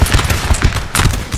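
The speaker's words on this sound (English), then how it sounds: "Firing into the Bavarian camp" Musket volley fire in Napoleon Total War rattles in quick, dense bursts of overlapping crackling shots, loud and close throughout a brief battle moment.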